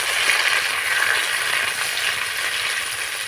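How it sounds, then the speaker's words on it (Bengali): Chopped tomatoes frying in oil with tempering spices give a steady, loud, unbroken sizzle for the whole stretch, with no one talking. "একটু নাড়াচাড়া করে টমেটোটাকে ভেজে নেব।"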